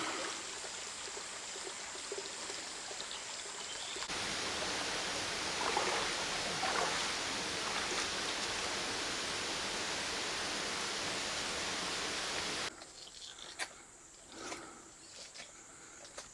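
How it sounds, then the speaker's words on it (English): Flowing river water rushes steadily around someone wading across a shallow stream in a limestone cave in Thailand, loud and close for most of the stretch before easing to quieter trickles and splashes. "another little river crossing here. Step into it and then wade through."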